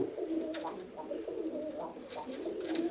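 An old black pigeon hen and other pigeons coo in repeated soft, throaty phrases at close range, over light background noise.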